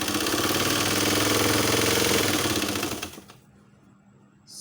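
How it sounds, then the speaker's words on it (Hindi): A sewing machine stitches a child's pajama trouser, a steady close mechanical whir for about three seconds before it stops and falls nearly silent. "हाणे मां तव्हांजे साम्हूं सिलाई कयां थी। तव्हां ॾिसो त ही केतिरी देरि में सिबजी थो वञे।"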